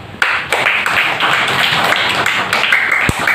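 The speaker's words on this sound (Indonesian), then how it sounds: "Ya tepuk tangan lo." An audience claps hands together loudly and fairly close, a ragged burst of irregular claps with a thump near the end.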